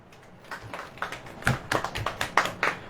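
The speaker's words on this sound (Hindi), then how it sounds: "ताली वाली नहीं बजाएंगे आप।" A congregation at a church sermon starts clapping, a handful of sharp, separate claps that grow more frequent and slightly louder, scattered rather than a full ovation.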